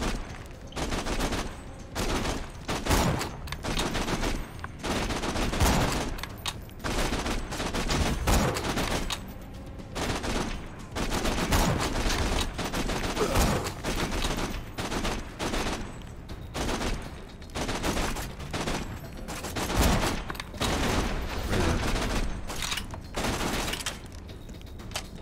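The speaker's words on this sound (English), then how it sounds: "They're gonna start shooting me." Enemy gunfire in the video game Borderlands 2 goes on almost without pause: dense, loud volleys of shots with occasional impacts and clatter, close by and sustained, and no voices over it.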